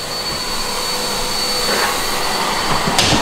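Steady, loud vacuum suction roars through a Milwaukee Air Tip attachment, a continuous whooshing drone with a faint whistle, close by and unbroken throughout.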